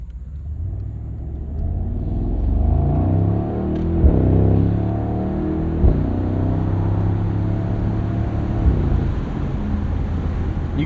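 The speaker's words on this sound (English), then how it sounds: "the SL63 does make quite a good noise" A 2024 Mercedes SL63 AMG roadster's twin-turbo V8 with its exhaust in loud mode, a steady close rumble that swells with throttle, punctuated by a few sharp crackles.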